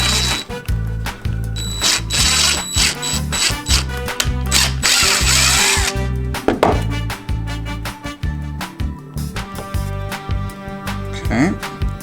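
A power drill enlarges an axle hole in short, loud, repeated bursts of whirring, the motor revving and stopping in an uneven rhythm, with a few clicks and knocks in between.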